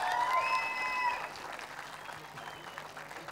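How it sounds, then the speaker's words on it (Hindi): Quiet, fairly distant applause from an audience at the launch of the TV show Mahakumbh, a soft patter of clapping that fades as a tonal whistle or squeal sounds near the start. "जोरदार तालियां हो जाए, कम ऑन एवरीवन।"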